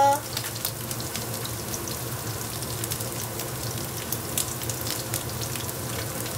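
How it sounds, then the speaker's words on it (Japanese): Food sizzles steadily in a hot pan, a dense, continuous frying hiss with scattered crackles and pops that holds at an even level throughout. "焼いて焼いていきます"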